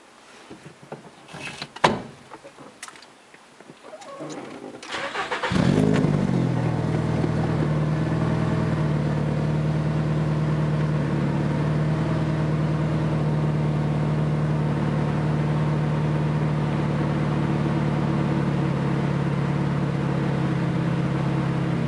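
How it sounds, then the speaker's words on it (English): A car engine at cold start: a few seconds of quiet clicks and clatter, then the engine catches and settles into a steady, loud, rumbling idle that holds unchanged to the end. "This is right at cold start idle."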